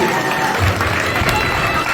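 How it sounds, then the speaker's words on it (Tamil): Audience at a Diwali tennis tournament event applauds, a brief burst of dense, close clapping from a crowd. "So big round of applause."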